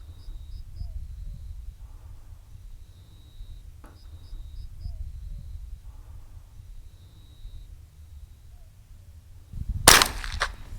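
A single sharp gunshot at a hare on a night hunt cracks loudly near the end, after a long quiet stretch of night ambience with faint insects and occasional small clicks.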